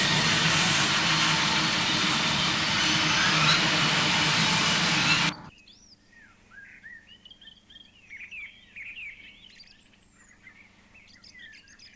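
Freight train from Middleton Towers, Norfolk, bound for Monk Bretton, passes under the Lincoln Line flyover at milepost 153, a loud broadband rumble that cuts off abruptly, leaving birdsong chirping in the quiet behind.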